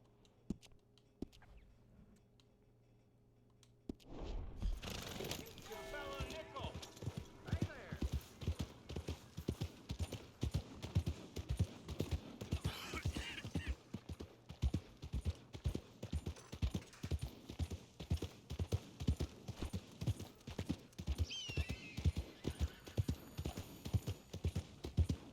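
Horse hooves clip-clop in a steady, even rhythm in a video game. The sound starts after a few seconds of near-quiet, stays fairly close and runs under someone talking.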